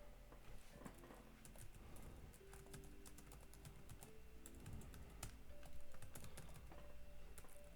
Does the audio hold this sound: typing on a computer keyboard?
yes